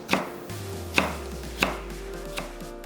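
A knife chops through cucumber on a cutting board, cutting it into thin strips, with four distinct, evenly spaced thuds, close by and clear, under a low steady hum.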